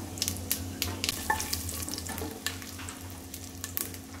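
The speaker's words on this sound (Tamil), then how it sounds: "பார்த்து பொறுமையாக நிதானமாக பொரிய விடணும்" Masala frying in ghee in a pan for jackfruit biryani: a close, continuous crackling sizzle with scattered pops and light stirring scrapes throughout.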